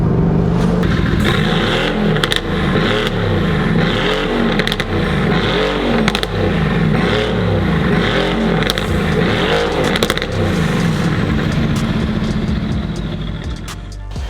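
A tuned Mercedes-AMG GT R making about 700 bhp drives hard, its engine roaring loud and close with continuous throttle and rising, falling revs over a steady low rumble, no talking.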